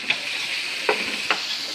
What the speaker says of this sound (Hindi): थोड़ा सा इसको हम 2 से 3 सेकंड के लिए भून लेते हैं।